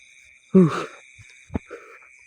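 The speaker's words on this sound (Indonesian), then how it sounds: "Ini beneran suara jangkrik ya, bukan backsound. Suara jangkrik sama suara katak." Crickets keep up a steady, high-pitched trill with frogs calling through the night air, briefly interrupted by a low groaning voice and a single sharp knock.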